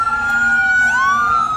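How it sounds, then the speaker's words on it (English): Emergency vehicle sirens wail loudly on a downtown street in Charlottesville, a sustained tone that rises and sweeps upward as the vehicles pass close by, with traffic rumble beneath. "we got the sirens going by"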